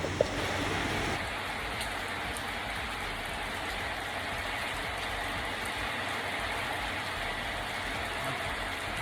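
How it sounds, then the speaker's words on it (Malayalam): Heavy rain falling outdoors, a dense, steady hiss that stays unbroken throughout, moderately loud and with no voices. "പുറത്ത് നല്ല മഴയുണ്ട്."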